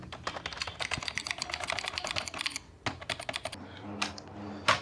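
Software-simulated mechanical keyboard typing on an ordinary keyboard, a dense run of crisp clicky keystrokes, then a brief pause and a few scattered, louder key presses near the end.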